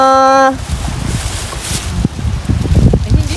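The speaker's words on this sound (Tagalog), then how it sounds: "Lakas ng hangin ngayon." Strong wind roars and buffets the microphone with gusty rumbling on a farm, after a brief steady tone at the start; no clear talking.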